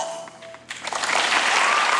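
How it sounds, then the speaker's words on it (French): Applause in a theatre rises abruptly after a moment of quiet, swelling into a steady wash of many hands clapping. "Des applaudissements pour la forme"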